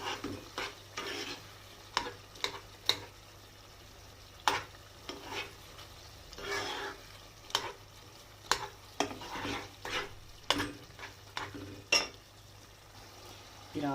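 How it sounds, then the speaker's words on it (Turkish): Tomato paste fries and sizzles in a pan, with a steady low sizzle broken by repeated scraping stirs and clinks of a utensil against the pan, close and fairly quiet. "Yemeğimin salçasını koydum. Salçayla kavuracağım."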